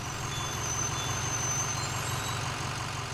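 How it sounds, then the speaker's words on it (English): An old-fashioned diesel school bus engine idling, a steady low rumble with a continuous rattling drone and faint high whine, constant and fairly close with no voices. "If you don't remember that old-fashioned school bus sound,"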